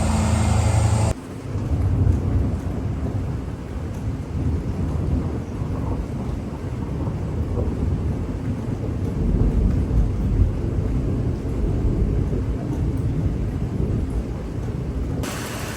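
Rainstorm with thunder under dark clouds on a breezy 63-degree autumn morning, steady heavy rainfall and deep rumbling throughout, with no one speaking.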